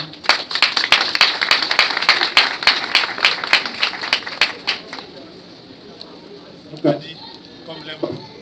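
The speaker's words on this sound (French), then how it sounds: "Est-ce qu'on peut l'applaudir?" Clapping from mourners at a memorial celebrating the life of Ngabert Katamba, brisk and fairly close for about five seconds, then fading out as a voice speaks.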